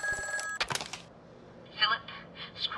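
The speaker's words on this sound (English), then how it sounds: "I better answer the phone." A telephone in the VR game Retropolis 2 rings in short electronic bursts at a moderate level, followed by softer, fainter tones after a brief pause.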